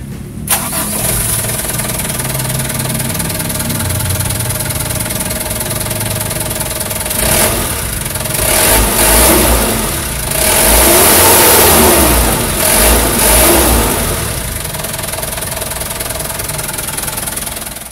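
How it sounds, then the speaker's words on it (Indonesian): A Colt diesel minibus engine cranks and fires up, revs briefly, then settles into a loud, clattering idle with a few throttle blips. "kita pengen denger dulu suara diesel gurih sebagaimana diesel bawaan Colt seperti biasa mesinnya dari bawah sini"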